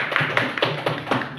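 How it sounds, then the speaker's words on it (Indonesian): Children clap in a classroom, a short run of separate sharp hand claps and taps at an uneven rhythm, close by and moderately loud, with no talk over them. "tepuk tangan untuk kawan-kawannya yang sudah menjawab tadi."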